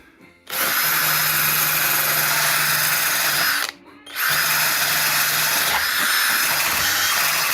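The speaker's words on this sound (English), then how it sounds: "Obviously, I'm going to get my corded drill, but that's all oxide primer." A corded electric drill whines loudly while stripping oxide primer from a Morris Minor's driver-side door, running in two long bursts with a short pause between.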